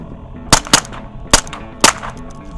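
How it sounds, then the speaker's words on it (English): Suppressed gunfire with low-grain ammunition, four sharp close cracks in quick irregular succession, the first two nearly back to back, over a steady low background. "we were shooting low-grain ammo with a suppressor"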